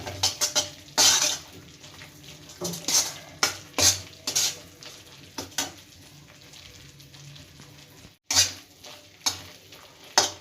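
Gaowran jaggery stirred and cooked in a pan, a spoon scraping and clinking against the metal in repeated strokes with a soft sizzle underneath, fairly close, with a brief pause near the end.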